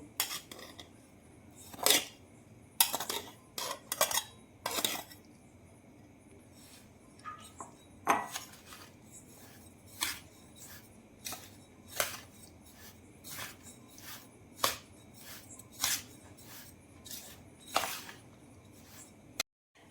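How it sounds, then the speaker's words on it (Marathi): A spoon scrapes and clinks in a bowl as powdered sugar is mixed into sheera premix, with irregular sharp metallic taps and scrapes, close up, no talking. "आता आपण घेतलेली पिठी साखर यामध्ये मिक्स करून घेऊ"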